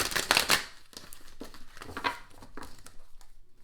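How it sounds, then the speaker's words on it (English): Deck of cards being shuffled by hand for a tarot-style reading, a burst of rapid riffling at first followed by softer intermittent shuffling and sliding. "I gotta break it up so I can shuffle it."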